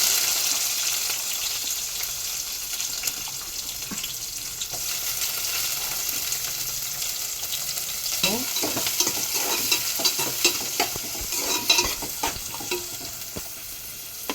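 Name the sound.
frying tempering seeds, green chilies, onions and curry leaves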